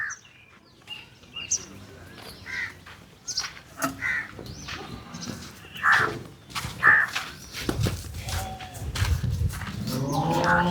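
Jersey Sindhi cross cows on a farm, with scattered low lows and shuffling among crow caws and background voices; the sounds are intermittent and mid-distance, with a heavier low rumble near the end.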